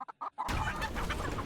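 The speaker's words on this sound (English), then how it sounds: "And now we have an army of the chickens." Spawned chickens in Blade and Sorcery VR cluck in a few short, separate calls. A sudden dense, loud wash of overlapping fowl noise then fills the rest of the moment.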